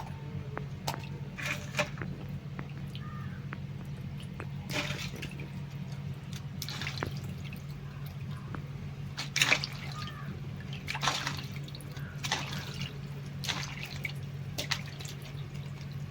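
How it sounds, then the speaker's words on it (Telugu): Crabs are rinsed by hand in water, giving intermittent splashes and drips over a constant low hum, fairly faint and close, with no talk. "పీతలో మళ్ళీ క్లీన్ చేసుకుందాం అండి నీళ్ళల్లో శుభ్రంగా."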